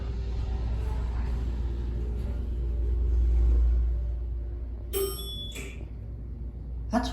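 A 1999 Pine State hydraulic elevator in a hotel gives a bright electronic ding with a short beep near the end, heard over a steady low hum and rumble of the moving car.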